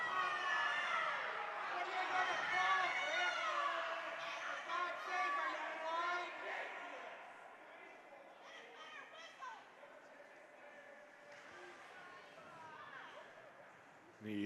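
Spectators at a boys' junior varsity hockey game react angrily, a dense wash of raised, jeering voices that swells loud early then thins to scattered calls, heard from within the rink.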